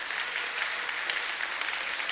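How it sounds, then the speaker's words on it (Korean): A church audience claps steadily as a welcome for a guest preacher at an evangelism festival, a dense, even patter of many hands that goes on throughout without any voices. "여러분들이 박수로 환영해 주시면 제가 이 개사한 노래를 부르고 싶어요."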